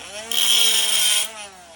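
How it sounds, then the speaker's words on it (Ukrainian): An angle grinder cuts into an iron plate: the motor hums, then a loud, harsh, high-pitched cutting shriek lasts about a second before easing back to the whirring motor. "І тепер прийшла черга нашої помічниці болгарки."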